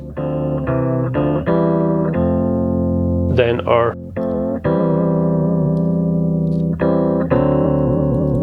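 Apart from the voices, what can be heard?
Rhodes through Befaco FX Boy microPhaser, fully wet phaser effect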